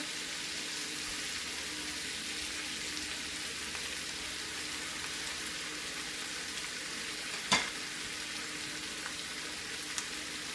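Pork chops fry in a pan with a steady, even sizzle that holds throughout, broken by one sharp clack of a utensil or pan partway through.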